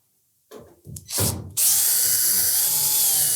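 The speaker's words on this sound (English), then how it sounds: "we're going to remove this support piece across the top" A power driver removing number 2 Phillips screws from the top support piece of a Samsung dryer cabinet: a few close clicks and ratcheting, then a loud, steady high whine of the motor running.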